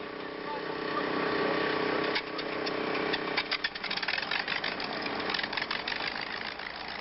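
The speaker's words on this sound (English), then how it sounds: "Now on the tarmac at Edwards, the engines are fired up." The engines of the Voyager record-setting aircraft idle on the tarmac at Edwards Air Force Base, one a liquid-cooled Teledyne model, giving a steady droning rumble that turns into rough, uneven throbbing with sharp knocks partway through.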